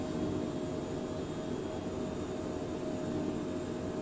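A Phenom business jet climbing out after takeoff in a flight simulator game, heard as a steady, even engine roar with a faint high whine running through it, continuous and unbroken, with no voices.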